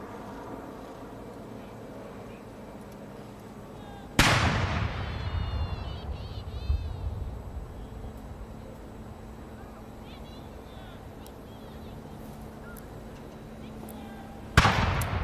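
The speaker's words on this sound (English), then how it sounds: "Gun salute being fired in honor of visiting Chinese President Xi Jinping." Ceremonial artillery gun salute fired at a state welcoming ceremony hosted by Queen Elizabeth II: one heavy boom rolls out in a long rumbling echo over faint background hum, then a second report lands about ten seconds later.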